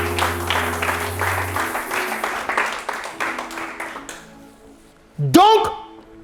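A church congregation applauds and acclaims the Lord, a dense run of clapping with raised voices that fades out over several seconds before a single voice cries out near the end.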